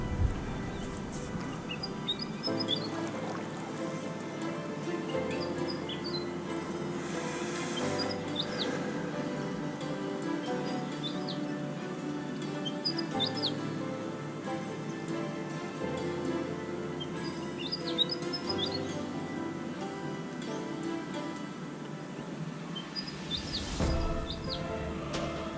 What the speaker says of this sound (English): so I'll just let the birds sing.